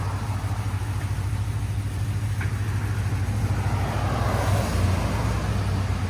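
A cammed, catless 6.0L V8 GMC Sierra running through its stock muffler, a steady low rumble that swells a little as it moves off, continuous and close.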